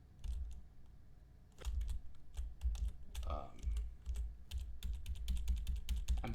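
A computer keyboard key is pressed over and over during gameplay, giving a quick irregular run of close, sharp clicks, with a brief voice in the middle.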